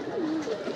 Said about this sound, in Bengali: আমার বাড়ির সবচেয়ে সিনিয়র কবুতর